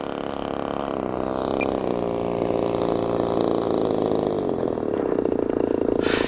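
The motor of a Legend Hobby Seagull Shock Cub RC plane in windy flight gives a steady, buzzing whine that holds at a fairly loud, even level throughout.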